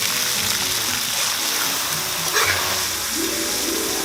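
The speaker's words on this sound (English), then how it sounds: "These get tossed in hot oil until they're crispy." Bugs deep-frying in hot oil make a steady, loud, broad sizzle that fills the whole stretch, with faint bubbling and clatter underneath.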